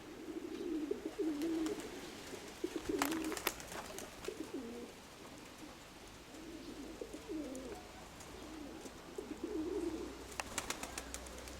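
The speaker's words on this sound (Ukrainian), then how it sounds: "Це 58-й голубок." Domestic pigeons in a loft coo repeatedly in low, rolling phrases, fairly close but soft, with occasional sharp clicks and rustles around them.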